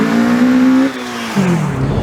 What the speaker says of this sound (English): here's a bonus clip of what it sounds like on a drive-by